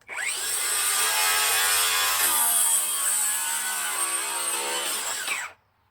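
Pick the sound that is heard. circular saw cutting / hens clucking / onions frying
circular saw cutting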